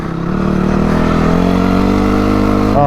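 A dirt bike engine drones steadily up close on a trail as the rider brakes hard with the rear wheel locking, the loud engine tone holding level before a short rise at the end.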